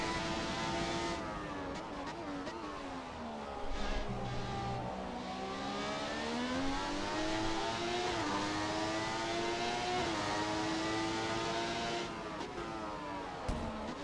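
A Formula 1 car in the F1 2017 racing game at the Russia round, engine revving and shifting through gears continuously, pitch rising and falling under braking and acceleration, loud and close throughout with no talk.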